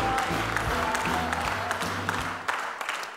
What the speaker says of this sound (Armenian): Ռուստամ ջան, քեզ էլ ենք ծափարում